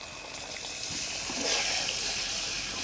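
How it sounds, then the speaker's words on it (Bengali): A little water poured into a frying spice and onion mixture for a milk chicken roast, a steady rushing hiss and splash that swells briefly midway, heard close and unbroken, with no talking. "এখন এর মধ্যে আমি সামান্য পরিমাণে পানি দিয়ে দিচ্ছি"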